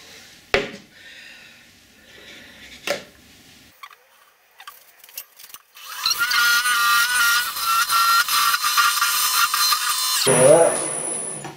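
A woodturning tool cuts a recess into a spinning bowl on the lathe, a rough, loud scraping whine that starts after a few sharp knocks and fades quickly at the end.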